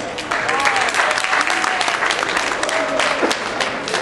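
An audience at a 2008 FAAWIS dinner dance claps steadily for young singers, a loud, continuous patter with some voices mixed in.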